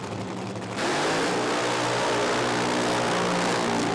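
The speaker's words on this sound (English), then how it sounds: "Time for a burnout with the Red Devil." A nitro funny car at a drag strip, Willowbank Raceway, roars into a burnout, a sudden blast of dense, crackling engine noise that jumps in loudness under a second in and stays loud and unbroken to the end.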